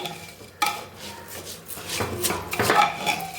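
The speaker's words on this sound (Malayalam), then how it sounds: "ഇതിലേക്ക് നമുക്ക് നെയ്യ് ചേർക്കണം കേട്ടോ. നന്നായിട്ട് ഇളക്കി കൊടുക്കാം." A spoon stirs ghee into rice in a pressure cooker pot, producing intermittent metallic scrapes and clinks that grow busier and louder toward the end.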